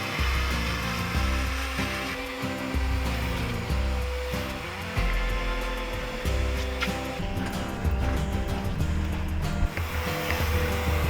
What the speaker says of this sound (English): Steam first, just to keep it up, add some heat in and some moisture, and then the vacuum comes by and grabs it.